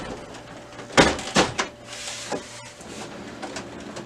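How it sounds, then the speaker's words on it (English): Top cover of a Brother MFC-L3770 laser printer being closed: a pair of near plastic clunks and rattles about half a second apart, followed by a softer click or two over quiet room noise. "we can go ahead and close this top cover"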